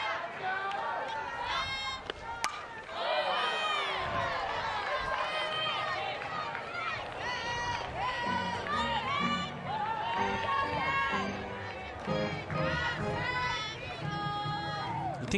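A softball crowd produces a constant murmur of chatter and shouts behind continuous commentary, with occasional cheers rising from the stands.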